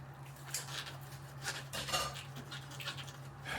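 Knife cutting through a garlic clove on a kitchen board, a series of soft, irregular chopping taps and scrapes, fairly close and quiet over a steady low hum.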